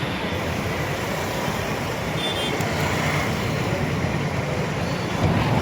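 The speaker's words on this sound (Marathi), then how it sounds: "ह्या शेअरिंग रिक्षा आहेत" Street traffic at Tarpa Chowk in Dahanu, where shared auto rickshaws wait for temple-goers: a steady, dense wash of engine and road noise at close to moderate range, continuous throughout with no distinct horns or voices.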